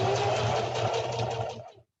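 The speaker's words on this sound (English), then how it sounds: "I've got both my serger and my sewing machine here" A sewing machine runs in a fast, steady whir of stitching a tunic, then stops abruptly near the end.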